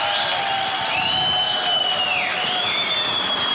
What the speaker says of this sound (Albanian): Dua dhe një duartrokitje tjetër për ju